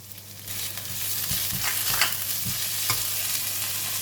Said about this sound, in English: Fry it together. When the onion becomes soft, and I'm putting in the ham